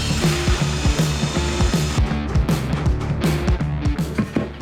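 A drill-driven paddle mixer churns mortar for laying large porcelain floor tiles, giving a steady, loud mechanical whir with repeated rhythmic pulses throughout and no talk.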